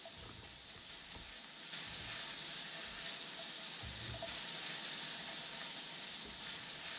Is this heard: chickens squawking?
no